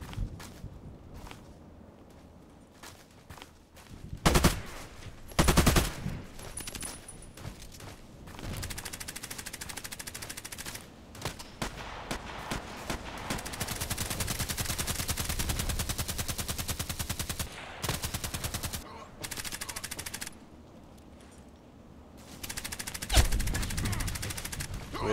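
AK-105 rifle and SA58 gunfire in the Contract Wars shooter game, with loud, sharp bursts of shots in quick volleys, footsteps and movement between them, and sustained automatic fire near the middle.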